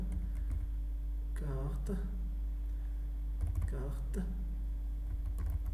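Rapid clicking of computer keyboard keys while an image file is renamed, with bursts of typing under a person talking and a constant low electrical hum.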